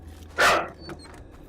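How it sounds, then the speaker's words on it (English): A single loud dog bark sounds close by in a room, a short sharp burst followed by a fainter yip, over a low steady hum. "And I've got a dog making noise because,"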